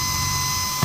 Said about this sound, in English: This one I'm gonna have to drill out just a tiny bit more.